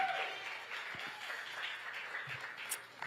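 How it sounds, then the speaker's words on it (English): Faint, distant audience applause at a Chicago book-signing event, a soft continuous patter of clapping with low hum underneath. "Another round of applause, y'all, for Reverend Jesse Jackson Sr."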